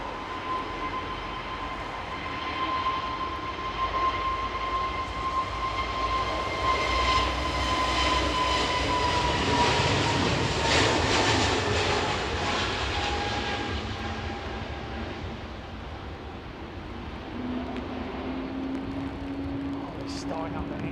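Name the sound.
aircraft engine being tested on ground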